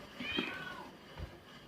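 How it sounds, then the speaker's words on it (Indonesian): Cats that often fight yowl and meow indoors in a short, close, tense exchange, with one drawn-out cry followed by a lower growl-like call. "kucing mereka itu selalu berantem"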